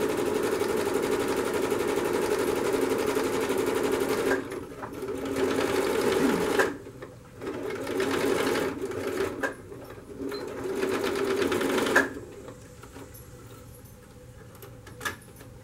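Sewing machine stitching a curtain hem, a loud continuous motor whir running in several long bursts separated by brief pauses, with a few light clicks between them.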